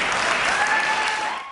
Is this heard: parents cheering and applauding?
yes